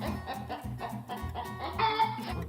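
A chicken clucks close by in a busy run of short, throaty calls, with a couple of sharper, higher squawks near the end.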